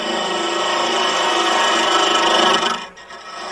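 A homemade hollowing tool drills straight into spinning wood on a wood lathe, giving a loud, close, continuous rasping grind that cuts off sharply near the end, leaving the quieter hum of the lathe.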